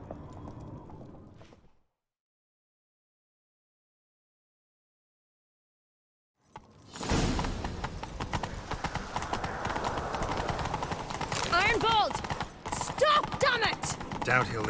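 Horse hooves gallop in The Witcher 3 after a silent gap, a fast, loud, continuous clip-clop with jingling tack and occasional voices over it.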